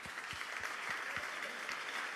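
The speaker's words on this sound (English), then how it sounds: "So give a big applause to Peter Warner." Applause from the audience at a book launch event, fairly faint and distant, a soft continuous patter of clapping lasting a couple of seconds.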